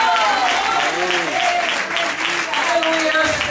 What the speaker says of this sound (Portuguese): as palmas bem fortes para o Senhor